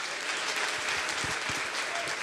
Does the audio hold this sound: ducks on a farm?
no